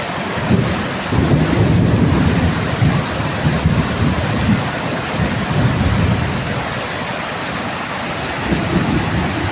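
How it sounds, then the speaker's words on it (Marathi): Low thunder rolls in repeated bursts beneath a steady wash of heavy monsoon rain falling over rural paddy fields. The rain is loud and close, with wind buffeting the microphone. "पाऊस पडतो तर काय नाही हो पण हे गडगडतं त्यामुळे भीती वाटते"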